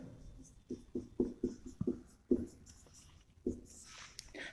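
Writing on a board during a chemistry lesson: close, irregular tapping and scratching strokes with several sharper knocks, and no talk over them.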